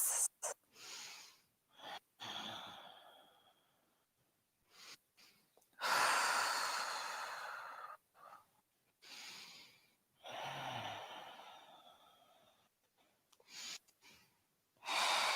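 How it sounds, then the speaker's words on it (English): Gentle, slow breathing during an evening yoga class, with soft inhales and longer exhales separated by pauses of silence, close and quiet, some breaths drawing in more audibly than others. "Lovely, gentle breaths."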